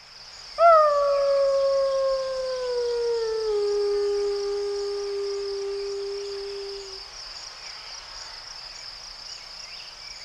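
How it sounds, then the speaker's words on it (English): A single wolf howl rises clearly from an old beaver meadow used as a rendezvous site in August, one long, sustained, slowly falling call lasting several seconds over a steady background of insect chirring. "In the month of August, when wolves are at their most vocal, they are often howling from sites just like this"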